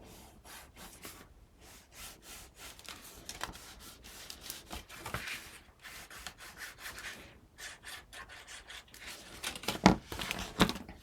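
Glued-down paper on a handmade mini album being burnished, with quick repeated rubbing strokes in a steady back-and-forth rhythm, close and fairly quiet, with a few brief pauses between bursts.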